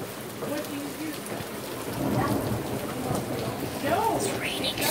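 Heavy rain pours steadily in a dense, loud wash, with faint rumbles and muffled background voices mixed in.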